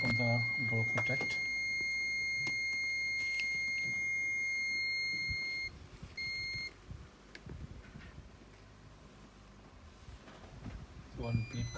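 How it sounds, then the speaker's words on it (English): A Pyronix Euro-46 alarm panel beeps loudly while being set, holding a steady tone for about five seconds, then giving a couple of short, separate beeps, with a person talking nearby. "One beep coming, alarm set."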